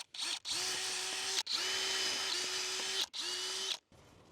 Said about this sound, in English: then I know where to drill my hole.